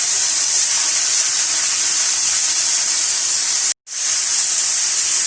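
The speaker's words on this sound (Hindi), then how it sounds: "1 से 2 मिनट आप इनको फ्राई करें।" Vegetables frying in a pan, a loud steady sizzling hiss that cuts out abruptly for a moment, then resumes at full strength.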